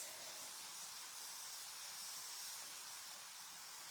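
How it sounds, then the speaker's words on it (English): A steady, faint hiss of cleaner sprayed from a spray bottle, running continuously for a few seconds without a break, close by and with no voices. "So, we're going to spray this."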